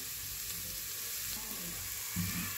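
Masala with red chili powder roasting in a pan for chutney, a steady close sizzle with soft stirring scrapes and a slightly louder burst near the end.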